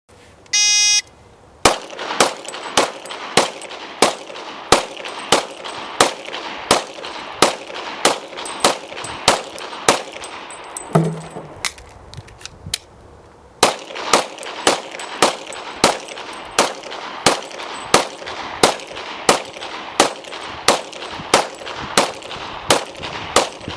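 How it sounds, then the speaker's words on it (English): Sharp gunshots ring out at a firing range as a shooter empties two 15-round magazines at targets, a steady rapid cadence of loud reports broken by a brief pause for a reload midway. "demonstrate by shooting the 2 15-round magazines"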